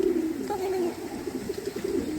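Pigeons in a loft cooing nearby, a sustained low throaty coo followed by several shorter warbling coos, with faint room background.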